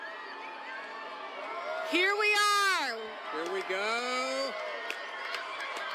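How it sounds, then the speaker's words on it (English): A crowd watching a solar eclipse reach totality in the Philadelphia area breaks into whoops, cheers and shouts. The rising voices swell loudly for a few seconds over a steady background, and a nearby person speaks briefly. "And the crowd goes wild."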